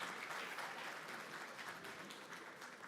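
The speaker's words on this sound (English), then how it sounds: "Let's give them a round of applause one more time" Audience at an opening ceremony breaking into a round of applause, a soft, steady spread of many hands clapping heard from some distance.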